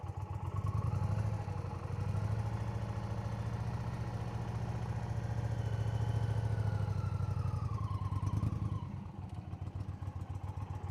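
A motorcycle engine runs with a steady low throb and slight rev changes during clutch and throttle control practice, mechanical clatter on top, fairly close and without talk.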